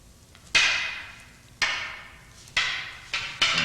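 Rattan arnis sticks strike together in a double-stick escrima reflex drill, five sharp wooden clacks at an uneven pace, each ringing briefly before the next, close by and with no talk.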